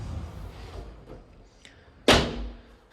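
A built-in wardrobe door in a rented apartment bedroom swings or slides open with one sharp, loud knock or slam near the end, after a stretch of quiet room noise and faint handling sounds.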